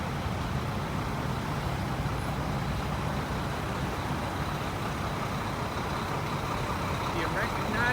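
A truck's engine rumbling steadily at close range, a continuous low drone with road noise that holds even throughout without breaks.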